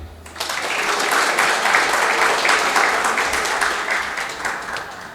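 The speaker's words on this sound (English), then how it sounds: "I request all of you to put your hands up, clap for your institute and say happy birthday." An audience at a college's 23rd birthday annual function breaks into loud, sustained clapping that swells after a brief pause and stays dense throughout, with a faint voice mixed underneath.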